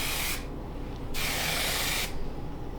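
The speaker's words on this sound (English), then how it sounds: "Let me just spray it on for you." Two long hissing bursts of Chi Shine Infusion hair shine spray, a fine mist each lasting under a second, separated by a short pause, close by.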